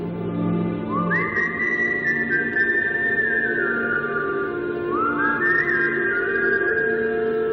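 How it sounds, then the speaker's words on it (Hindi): Two long rising whistles echo through an empty house, each sliding up and holding before trailing off, heard over a steady background hum with a faint reverberant quality. "सीटी एक बार फिर गूंजी"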